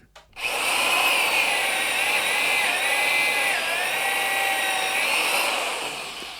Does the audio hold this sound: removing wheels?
yes